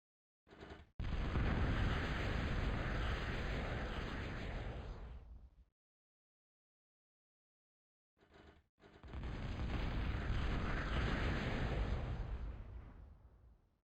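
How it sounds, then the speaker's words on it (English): Two long, roaring bursts of explosions from bomber attacks on an island in a strategy video game, each rumbling for about five seconds with a loud start that slowly fades, separated by a few seconds of silence. "This island, you can see how devastating these bomber attacks are."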